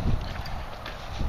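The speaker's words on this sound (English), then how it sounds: "Man, it's windy out today." Wind gusts buffet the microphone outdoors on a cold, blustery day, a steady low rumble with louder bursts at the start and end of the short stretch.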